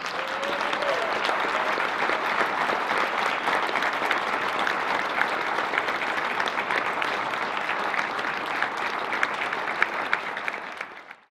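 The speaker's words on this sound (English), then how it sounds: "let's give them a round of applause" Sustained audience applause at the close of a Veritas Forum talk on science and atheism, a dense, steady clatter of many hands that holds loud and even for about eleven seconds before cutting off abruptly.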